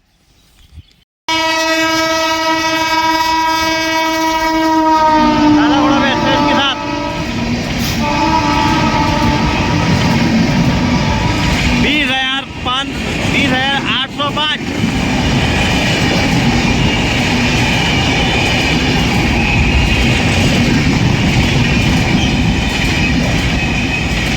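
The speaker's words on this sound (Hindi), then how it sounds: "Visakhapatnam new Delhi AP express." The Visakhapatnam–New Delhi AP Express superfast train passes on a cold winter morning, its loud horn blaring over the roar and rumble of the passing coaches, with wheel clatter continuing throughout.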